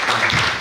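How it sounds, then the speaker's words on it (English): Applause from a conference audience for a panel of speakers at a business conference in East Africa, a short dense burst of clapping heard up close, steady and loud throughout with no gaps. "A round of applause for my distinguished panelists."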